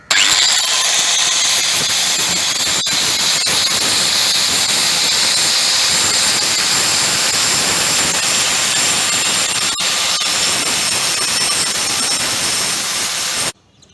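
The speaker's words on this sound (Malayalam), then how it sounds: "ഈ കട്ട് ചെയ്തെടുത്ത പീസുകളുടെയൊക്കെ എഡ്ജുകൾ ഒന്ന് ഗ്രൈൻഡ് ചെയ്ത് കൊടുക്കാം." Continuous high, hissing whine of a grinder working the edges of cut pieces for a simple home-built cupboard, loud and unbroken for the full length before stopping abruptly, with no talking.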